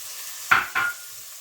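Onion and garlic sizzling and being stirred in a pan for red lentil soup, two short bursts of frying hiss over a low steady background, close and fairly loud.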